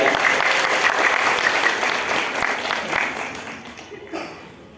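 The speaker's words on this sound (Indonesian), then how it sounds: "Tepuk tangan sekali lagi untuk teman-teman ya." An audience at a business seminar or club meeting applauds steadily, a dense wash of clapping hands that holds for several seconds before tapering off toward the end.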